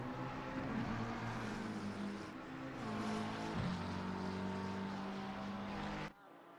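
McLaren race cars roar around Watkins Glen in a sim racing game, two engines whining together at high revs in a steady loud drone, then cutting off abruptly near the end.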